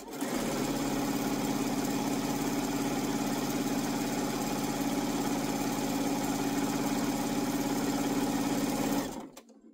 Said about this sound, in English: sew the pattern piece onto the background piece